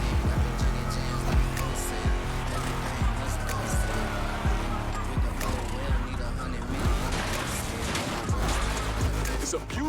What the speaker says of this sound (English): Let's hear these engines.